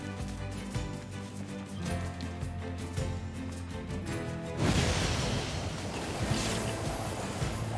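Boat ride in the video game NieR Replicant: steady wind and water wash under background music, growing rougher and noisier halfway through as the craft moves along.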